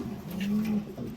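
Male racing pigeon giving a single low, throaty coo, close by and brief.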